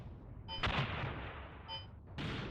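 88mm guns fire artillery in the Mius Front war game, a couple of heavy booming shots with rumbling tails against a steady background din, fairly loud with no talk.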